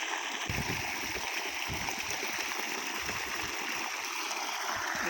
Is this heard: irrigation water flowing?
yes